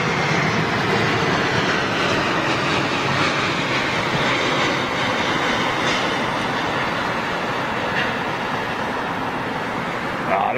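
Boeing 747 jet airliner passing overhead with a loud, continuous broadband engine roar that barely changes in level for the whole stretch.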